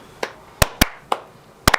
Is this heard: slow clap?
yes